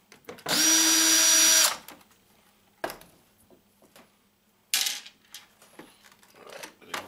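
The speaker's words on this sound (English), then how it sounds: "Wait till I'm done being noisy with the drill here." Power drill backing screws out of office phones being scrapped, with a loud high whine of about a second, a pause with small clinks and rattles, then a second shorter burst and more handling noise.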